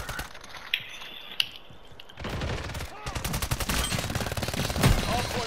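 Automatic gunfire rattles in a first-person shooter game. It starts with a few isolated mechanical clicks and shots, then breaks into sustained rapid bursts of close, loud weapon fire.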